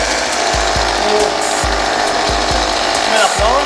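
Wood spindle moulder fitted with a power feeder runs at a loud, steady whine while a plank is fed through, with repeated low thumps and cutting bursts as the wood passes the cutter.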